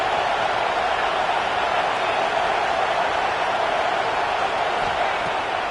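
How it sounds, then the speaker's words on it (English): Stadium crowd at a Michigan versus Wisconsin college football game, a dense continuous roar that holds loud and steady with no break or voices standing out. "This crowd bringing the energy and noise early."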